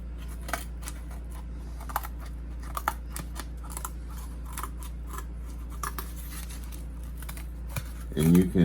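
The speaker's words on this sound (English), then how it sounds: "Cut it out with scissors." Scissors cut through a piece of cardboard from a box top in a rapid run of crisp snips and crunches, close up over a low steady hum, with a voice briefly at the end.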